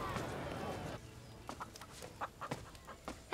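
A large rooster clucks in a series of short, scattered calls after a brief stretch of louder noise, with ambient sound beneath.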